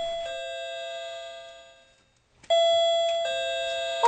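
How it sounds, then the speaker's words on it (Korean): A doorbell sound effect from a radio drama: a clear electronic chime rings, fades to silence, then rings again, bright and close, with no voices. "초인종 소리가 들렸다."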